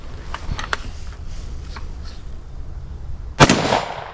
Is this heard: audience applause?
no